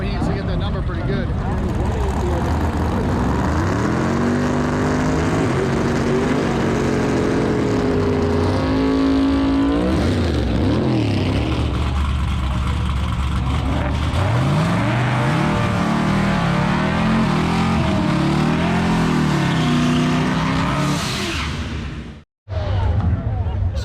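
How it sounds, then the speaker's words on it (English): A big-tire unlimited-class drag race car runs at Drag Week 2021. Its engine roars loud and close, with rising and falling revs sweeping across the whole stretch before cutting off abruptly near the end. "this is a crazy race car, big tire, but this is doing drag week"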